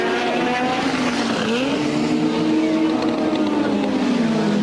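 Formula 1 race cars during practice at the 1986 British Grand Prix, engines wailing at high revs with rising and falling pitch as they pass, loud and continuous.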